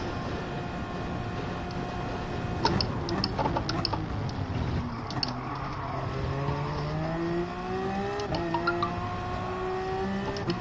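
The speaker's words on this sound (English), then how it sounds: "We'll rev the nuts out of her right now." A rally car engine in the Dirt Rally game revs hard and climbs through the gears, with its pitch rising steadily over loud, constant road and mechanical noise, while a few sharp ticks cut through and no one talks.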